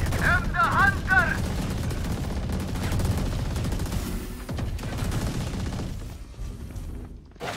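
Rapid bursts of gunfire fill a round of the video game Valorant, repeated shots crackling loudly with brief pauses, while a player's voice talks over the action.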